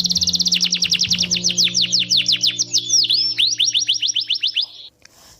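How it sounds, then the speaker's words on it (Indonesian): Bright, rapid bird chirps repeat in quick downward-swept trills for nearly five seconds, loud and close, over a faint steady low hum, then stop abruptly. "seperti kicauan burung,"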